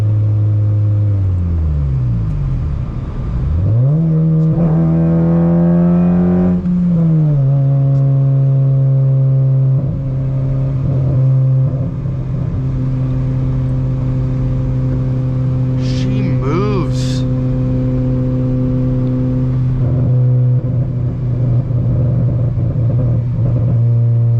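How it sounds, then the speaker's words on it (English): Honda Civic Si at night, heard from inside the car: a loud, steady engine drone climbs in pitch as it revs, eases briefly, then holds a smooth high cruising hum, with people talking over it. "When that VTEC kicks in, now we're in 6th gear."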